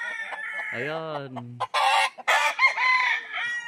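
Roosters crow loudly nearby at a game farm in La Union, one long cock-a-doodle-doo followed by overlapping crows and clucks from several birds, with someone speaking briefly.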